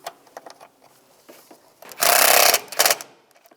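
A screw is driven in with a power tool while a shock absorber is replaced on a 2004–2010 BMW X3, a half-second whirring burst followed by a shorter one, amid scattered clicks and handling noises.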